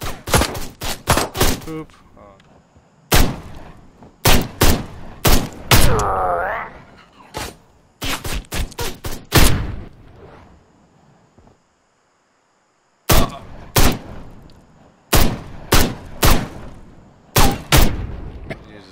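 Gunfire in the video game Ride to Hell: Retribution, loud repeated shots in rapid bursts with gaps between volleys, mixed with grunts and a voice talking over the action.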